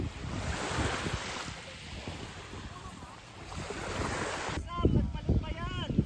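Ocean waves wash at Bonbon Beach in Romblon, Philippines, a broad steady surf roar with heavy wind buffeting the microphone, and faint voices near the end.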